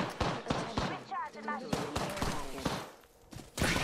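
Gunfire in a video game cracks out as a string of sharp, loud shots in uneven bursts, with a voice talking over part of it.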